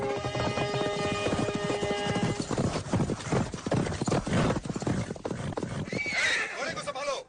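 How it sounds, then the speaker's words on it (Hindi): Horse hooves clop rapidly and loudly in a dense rhythm, then a horse neighs near the end. Voices and battle noise are mixed in. "घोड़े को संभालो।"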